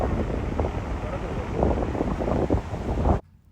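Strong wind buffets the microphone at Miami's South Beach, a loud continuous roar with gusty swells that cuts off abruptly near the end.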